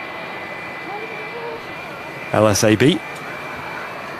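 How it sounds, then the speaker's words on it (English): A Jet2 Boeing 757 jet airliner at Manchester Airport gives a steady, distant engine whine throughout. A short burst of speech breaks in partway through. "The Jet2 757."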